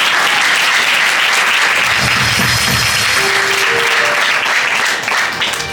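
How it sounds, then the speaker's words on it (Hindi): A church congregation at a Hindi-language sermon claps loudly and continuously, a dense wash of hand clapping with faint voices mixed in. "आपको प्रभु की महिमा ताली बजा के करनी चाहिए।"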